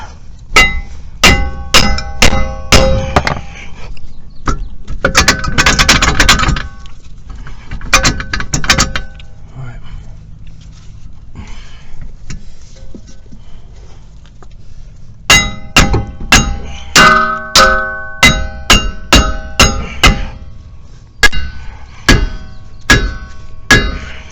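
Repeated loud metallic hammer blows on the back of a brake rotor on a 2016 Subaru Crosstrek, coming in quick bursts of ringing clangs with a quieter pause in the middle before another rapid run of strikes.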